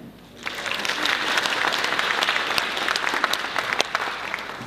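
An audience at a creative evening in a Minsk railway workers' house of culture bursts into applause that swells quickly and holds as a dense, steady clapping for several seconds.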